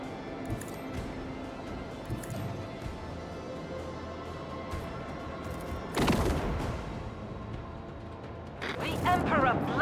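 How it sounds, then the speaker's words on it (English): Heavy starship macro cannon blasts boom out in a battle in the video game Rogue Trader, with a couple of loud bursts rising above a constant rumbling background. "I want to hear the macro cannons roar."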